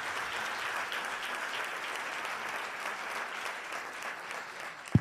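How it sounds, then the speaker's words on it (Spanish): An audience at a business awards gala claps steadily throughout, a dense, even wash of applause with no talking. "Así que voy a pedir un aplauso para Eva Muñoz y su grupo"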